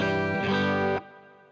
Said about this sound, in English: It's big. It's a hall reverb